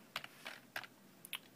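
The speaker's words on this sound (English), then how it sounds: "so we're going to type in the box down here" Keystrokes on a computer keyboard entering a drive mapping, a few quiet separate taps and short bursts in an otherwise still room.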